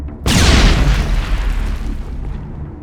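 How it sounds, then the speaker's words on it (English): Grenade explosion in the Mass Effect Legendary Edition video game: a sudden loud close blast followed by a long rumbling, crackling decay that fades over a couple of seconds. "Keep throwing grenades."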